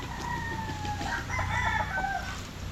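A rooster crows at a backyard chicken farm, a single long cock-a-doodle-doo at moderate distance with faint clucking from other fowl around it.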